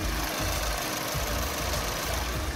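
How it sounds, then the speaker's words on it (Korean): A Korean gasoline full-size sedan with about 70,000 km idles smoothly and steadily, recorded close with the hood open, a soft, even hum with faint rhythmic ticking and no other sounds. "엔진 소음을 담기 위해 본네트를 한번 열어봤는데요."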